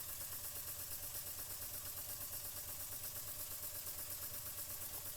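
An Empire B-43 toy steam engine fitted with a gauge runs steadily with a fast, even chuffing pulse. It is faint and constant, with no talking over it.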